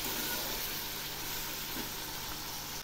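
Drumstick vegetables fry in spices and oil in a pan, giving a steady close sizzle and hiss that runs unbroken, with no one talking.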